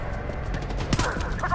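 Rapid gunfire in the video game Homefront: The Revolution, a dense burst of shots with a sharper crack near the middle, mixed with a voice talking over the action.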